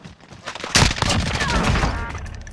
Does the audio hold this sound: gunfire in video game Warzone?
yes